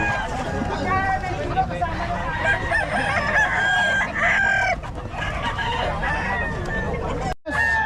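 Chickens and roosters at a poultry market in Bocaue, loud clucking and repeated crowing from birds close by, set over a babble of people talking in the background.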